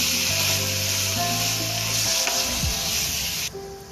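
Carrot halwa is stirred in a hot pan, giving a loud, dense, continuous sizzle with scraping stirring strokes up close, then easing slightly near the end, with no talking.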